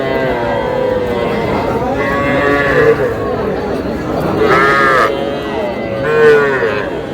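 A three-month-old bull calf on a Comilla farm gives several drawn-out moos spaced a few seconds apart, heard close and fairly loud over people talking nearby.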